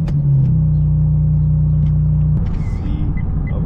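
Car interior rumble during a drive with a dash cam fitted, a low steady engine and road drone with a tonal hum that shifts partway through, loud and close.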